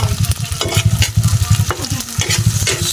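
Onion, garlic, ginger and chili sizzle in a hot pan, stirred in quick repeated scrapes and rattles, close and fairly loud with no talk.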